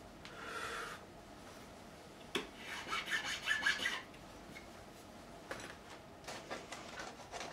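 Sandpaper of 400 grit rubbed over the top of a made-in-Japan Squier Stratocaster guitar, a few quiet rasping strokes in short bursts, with a busier stretch of scrubbing in the middle.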